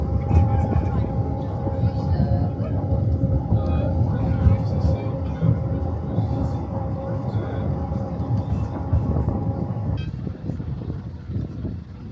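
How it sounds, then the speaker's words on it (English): A Snowdon Mountain Railway train rumbles steadily on a Welsh mountainside, a low continuous drone with a sustained tonal hum, fairly near, then easing off near the end; voices murmur faintly at times. "you can see the other train that's coming up, so we've got to wait for that to pass"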